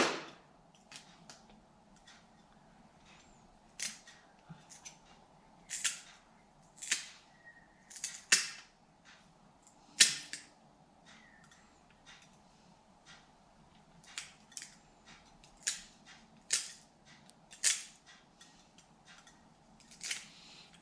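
Glass nippers snip the corners off pieces of fused glass, giving a series of sharp, close clicks and small cracks at irregular intervals over a low background hum.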